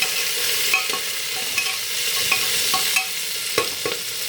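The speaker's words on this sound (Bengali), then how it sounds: "চলো এটা একটু 10 মিনিট ভেজে নিই এপিট ওপিট করে" Beans and carrots frying in a pan and being turned over, a steady sizzle broken by repeated spatula scrapes and taps at an uneven rhythm, close and clear, no voices.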